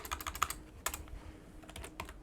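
Quick, close bursts of typing on a computer keyboard, a cluster of light key clicks, a short pause, then a few more taps, fairly faint.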